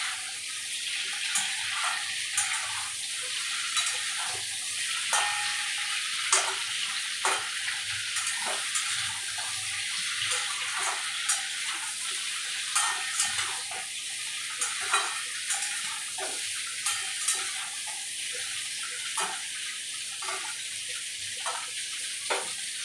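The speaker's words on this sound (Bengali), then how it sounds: "এবার একটু নেড়ে ছেড়ে হালকা করে একটু ভেজে নেব" Drumsticks (sajne data) stirred and lightly fried in a pan for dudh shukto, a steady sizzle running throughout with repeated scraping clicks of the spatula, close and continuous with no talk.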